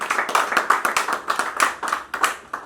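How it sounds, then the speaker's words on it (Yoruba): Several people clap at a gathering, sharp uneven claps close by that rise and fade in quick bursts. "Ẹ jọ̀ọ́ bá mi ṣá wọn ní àtẹ́wọ́."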